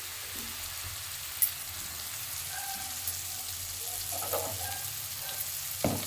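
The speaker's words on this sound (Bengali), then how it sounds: "দিয়ে আমি মশলাটাকে একটু ভালো করে কষিয়ে নেব। এর সঙ্গে টমেটোটাও দিয়ে দিই, একসঙ্গে গরম কষাই ভালো হয়।" Spices and tomato fry gently in a pan for a lentil-fritter curry, a soft continuous sizzle close by with a few light clinks and stirring touches, no voices.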